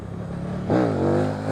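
Engine of a KTM 1290 Super Duke R or Kawasaki Z H2 motorcycle revs up sharply midway from a steady idle-like drone, its pitch rising then holding high, loud and close with no talking.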